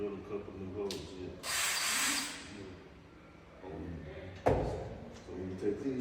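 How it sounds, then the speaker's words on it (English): A power drill boring holes for a TV soundbar bracket, one sustained burst in the middle and a short bite near the end, close and fairly loud, with talking and handling noises around it. "drill a couple of holes here"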